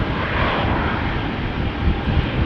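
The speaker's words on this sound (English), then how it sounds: "Bulgaria Air is taking off to Sofia." A Bulgaria Air Airbus A220 (Bombardier C-Series 300) taking off at Amsterdam Schiphol, a loud, steady broadband jet roar sustained throughout with no voices.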